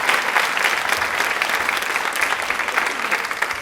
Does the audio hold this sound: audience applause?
yes